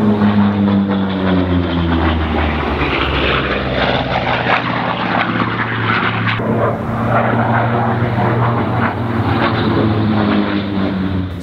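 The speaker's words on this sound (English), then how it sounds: "There are mock dogfights taking place as I speak above with Second World War aircraft." Second World War propeller aircraft fly overhead in mock dogfights at Duxford, a loud continuous engine roar with shifting pitch as the planes pass.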